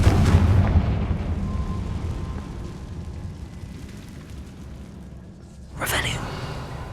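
Confringo blast spell in Hogwarts Legacy, a loud booming explosion at the start that decays into a rumbling tail, followed by a second whooshing burst near the end, with a voice in the game.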